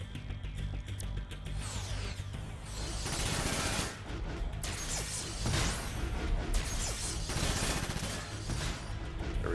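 Weapon fire in the mech tactics video game Front Mission 5: Scars of the War, loud rapid gun bursts and crashing impacts with whooshes, dense and continuous across the sequence, no talking.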